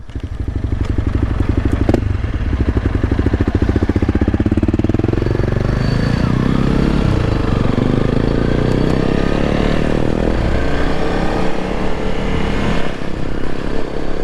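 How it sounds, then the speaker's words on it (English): A Honda CRF300L Rally motorcycle rides on Tusk DSport tires along a paved road, its engine a loud, steady close-up drone that rises and swells as it accelerates, with wind roar and rumble running throughout. "So riding the Tusk tires, the DSports, on the road is actually really awesome."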